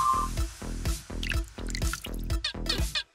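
Water drips in a quick series of distinct, fairly loud plops, about seven or eight in a steady rhythm, heard close up and without talk.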